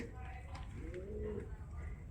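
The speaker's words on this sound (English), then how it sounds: "I do hear that bird." A pigeon or dove gives a soft cooing call from nearby old ruins. The call is faint, heard under a steady background hiss, and a voice murmurs indistinctly.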